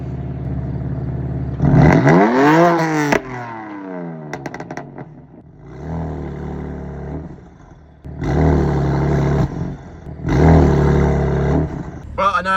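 A BMW F80 M3 engine revs hard in repeated surges on launch control, climbing in pitch then cutting back, loud and nearby, with pops and clatter between bursts.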